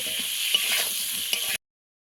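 Pointed gourd (potol) frying in a pan with a little salt and turmeric, an even hissing sizzle with faint stirring, cut off abruptly after about a second and a half.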